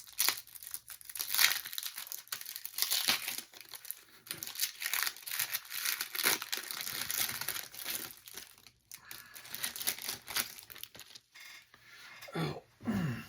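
A foil pack of Topps Big baseball cards being torn open and crinkled, close and loud, with continuous crackling and rustling that eases off near the end.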